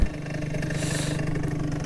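Stone 2017 scooter engine with a Varius Stage 6 variator revving steadily nearby, a continuous buzzing drone with slight rises in pitch and no break.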